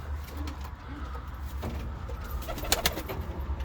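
Young tumbler pigeons coo softly and repeatedly over a low hum of distant traffic, with a few flutters and chirps mixed in.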